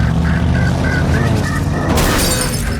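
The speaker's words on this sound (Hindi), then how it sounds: "सिड, तुमने उस गाड़ी को उड़ा दिया" Cartoon car blowing up in a loud explosive boom with a shattering burst near the end, over a dense continuous rumble and music-like tones throughout.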